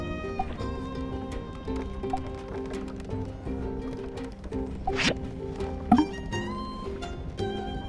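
Horse hooves clip-clop steadily in the farming video game My Time at Sandrock, with a short sharp neigh and whinny cutting through a melodic music background.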